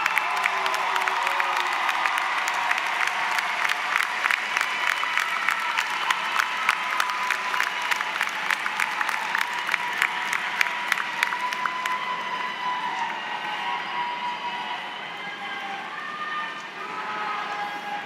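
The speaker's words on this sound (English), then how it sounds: "give them a big round of applause" Large audience applauding family and friends at an outdoor college commencement ceremony, a steady wash of clapping with a few cheers, sustained throughout and slowly thinning toward the end.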